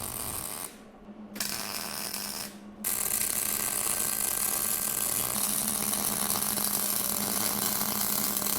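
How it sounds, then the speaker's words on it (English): A bench vise being cranked tight to clamp steel parts for welding a weld washer onto a pin mount, a steady mechanical ratcheting grind that runs loud and continuous after a couple of brief pauses. "We're going to clamp this up tightly in the vise"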